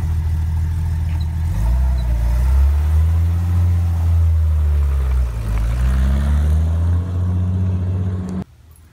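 A Jeep Wrangler with a freshly swapped transmission drives off, its engine droning steadily and rising and falling through gear changes, close and fairly loud, then cutting out abruptly at the end.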